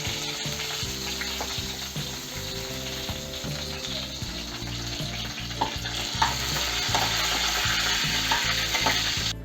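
Slit green chilies, curry leaves, cumin seed and mustard seeds fry in hot oil, a loud continuous sizzle with scraping stirs and small crackling pops throughout.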